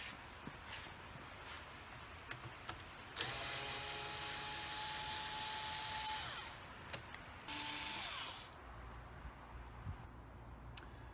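A power driver whirs steadily for several seconds while backing out screws from an E-100 scooter's battery compartment, then gives a second shorter burst, with quiet clicks and handling noises around it.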